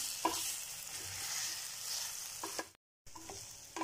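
Chicken being stirred and fried in masala for a dhaba-style curry, with a steady close sizzle and intermittent scraping stirs against the pan, briefly cutting to silence before the frying resumes.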